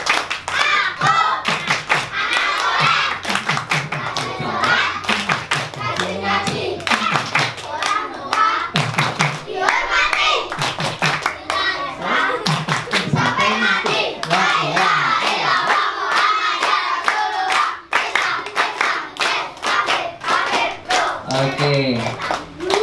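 Children clap along to a rhythmic Islamic children's clapping chant during a storytelling session, with bursts of fast, close hand claps mixed with chanting voices and talk throughout.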